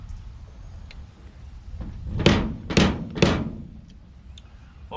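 A slide hammer drives a fork seal into a dirt bike fork tube, three sharp metallic knocks in quick succession over a low workshop rumble.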